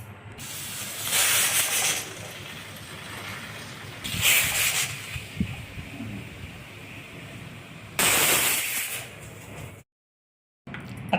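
A pressure cooker holding urad dal releases three loud hissing bursts of steam a few seconds apart over a quieter background, with no talking.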